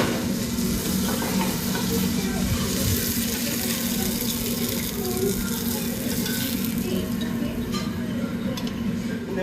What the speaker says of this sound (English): This is just sauteed braised escarole.